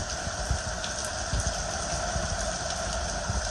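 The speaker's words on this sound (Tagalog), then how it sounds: "ulan na naman ang yelo" Hail mixed with rain comes down in Riyadh, a steady hiss of falling water broken by scattered sharp ticks and taps of hailstones striking nearby surfaces.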